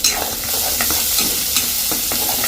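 Curry leaves sautéing and being stirred in a pan for a Jaffna fish dish, with a steady loud sizzle and repeated scraping stirs throughout, no talking.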